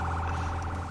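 A police car siren in the Firefighting Simulator video game wails steadily and loudly, its warbling tone droning over a low engine hum.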